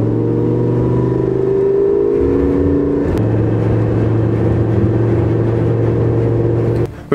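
Twin-turbo Lamborghini on a motorway exit, with a loud continuous engine drone and whir whose pitch holds steady then steps up, no talk, cutting off abruptly at the end.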